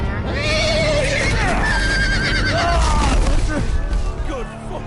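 A horse whinnies repeatedly in a dramatic Game of Thrones video game scene, its shrill neighs riding over a dense, loud bed of battle noise, clattering hooves and music that fills the whole stretch.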